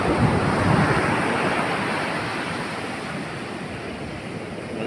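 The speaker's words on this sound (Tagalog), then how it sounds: "ang lakas ng alon dito mga idol" Strong ocean waves crashing and surging along a deep-water coastline, a loud continuous roar of surf with wind rumble on the microphone, slowly easing before swelling again.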